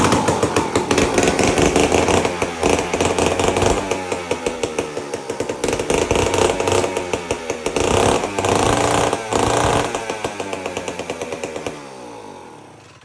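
An old chainsaw with a faulty fuel tank runs loudly right after starting, its engine pulsing in rapid uneven revs close by before sputtering down at the end.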